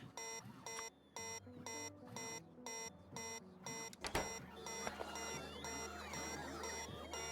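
A repeating electronic alarm buzzer in Factorio beeps in steady, evenly spaced pulses, then shifts into a denser, warbling tone over a low hum.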